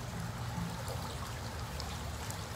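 Water feature pump set to high, pushing a steady, soft rush of flowing water that streams and trickles continuously without any break.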